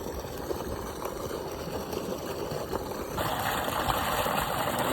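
An electric farm water pump motor, switched on by mobile phone call, hums steadily with a wash of flowing water, growing noticeably louder partway through as it picks up.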